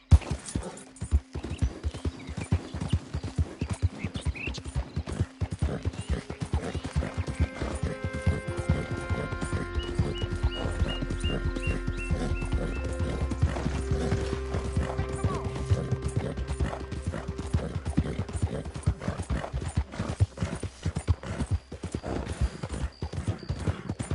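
Horse hooves clip-clopping at a steady trot in the video game Red Dead Redemption 2, a continuous rhythmic patter over a low ambient music bed, with faint game sounds and occasional distant voices.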